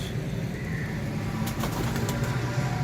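Pure-bred kamgar pigeons in a loft, cooing softly at close range with a brief burst of wing flaps midway over a steady low background rumble.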